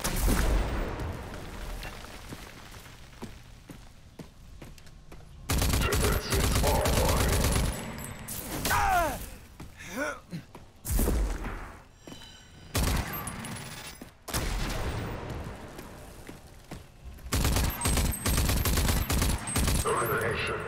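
Turret gunfire in the game Rage 2: sustained, loud bursts of rapid automatic fire in several long volleys separated by brief pauses, with booming impacts and some faint voices underneath.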